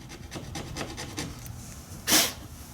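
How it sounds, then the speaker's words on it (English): A hand file rasps at the edge of a hole in a Corvette C7 rear wickerbill spoiler, a series of short, gentle, rhythmic strokes up close, with one louder, sharper scrape near the end. "What I'm doing is just filing the left side of that hole."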